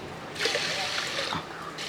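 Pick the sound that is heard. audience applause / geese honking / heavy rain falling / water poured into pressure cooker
water poured into pressure cooker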